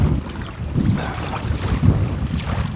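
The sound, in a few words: strong wind blowing on a beach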